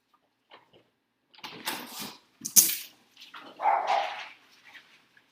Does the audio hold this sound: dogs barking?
yes